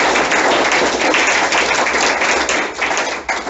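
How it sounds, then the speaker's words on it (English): An evening forum audience on building defects and cladding claps for a panel of speakers. Loud, close, dense applause holds steady for several seconds and begins to thin near the end. "Rod, Colin, Andrew, Erik, Rob and Craig, can we all give them a round of applause to"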